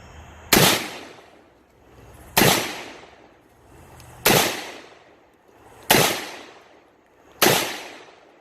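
AK rifle firing 7.62 rounds through a plain muzzle nut with no muzzle device, five sharp, loud reports spaced roughly two seconds apart, each trailing off into a fading echo.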